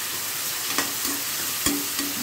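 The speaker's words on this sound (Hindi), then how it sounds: "बारीक कटी हुई टमाटर डालूंगी।" Chopped tomatoes go into a frying pan while pasta sauce cooks, giving a soft steady sizzle with a few brief stirring scrapes and clatters close by.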